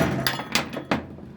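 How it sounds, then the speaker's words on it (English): Three sharp, close knocks from a dead blow hammer drive a U-joint cap into the driveshaft yoke of a 1994 Mazda B3000, spaced in a quick, uneven rhythm with a short clink after each hit. "take your dead blow hammer and Hadouken it with extreme authority"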